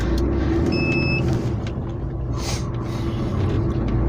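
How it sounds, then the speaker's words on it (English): A car passes on the road with a steady, loud engine rumble and tyre noise, the swell peaking midway as it goes by close. "We'll just let this car go."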